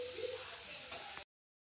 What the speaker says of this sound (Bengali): এবার আলুটাকে দিয়ে কষিয়ে নেব।